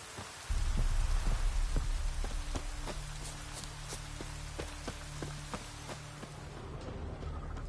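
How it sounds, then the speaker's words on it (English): Rain in The Witcher video game, a steady patter that starts abruptly and holds on, with scattered sharper drop ticks and a low rumbling bed beneath, no speech. "Looks like rain."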